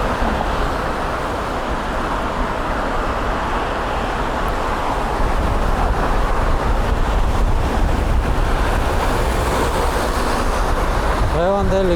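Strong gusting wind roars across a microphone while cycling through Tbilisi streets, a steady, loud, buffeting rumble filling the whole stretch with a brief creak near the end.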